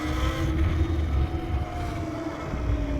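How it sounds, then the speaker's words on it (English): A 2023 Talaria Sting electric dirt bike ridden outdoors, its motor giving a quiet, steady whine under heavy wind buffeting the microphone, continuous for the whole stretch without any combustion engine roar. "As you can hear, the bike is very quiet compared to our sur-ron."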